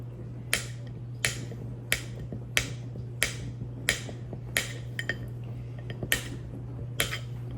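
A knife slices really cold butter into cubes on a board, giving about a dozen crisp, evenly spaced chops at a steady rhythm over a low, constant kitchen hum.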